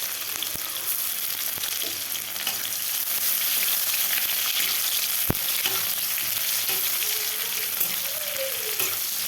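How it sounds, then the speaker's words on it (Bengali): Chopped onion fries in hot oil in a pan after dried red chillies, a steady, soft sizzling hiss with occasional clinks of a spatula stirring. "পেঁয়াজটা একটু ভাজা হতে থাক"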